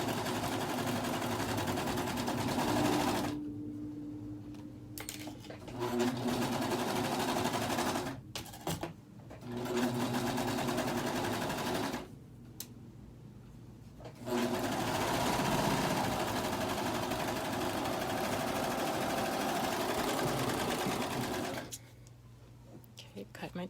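A serger overlock machine stitches a fabric pillow cover in several fast whirring bursts separated by pauses, with a voice talking between runs.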